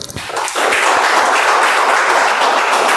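Room of Toastmasters club members applauding, building quickly into a dense, even wash of clapping that stays loud and steady to the end.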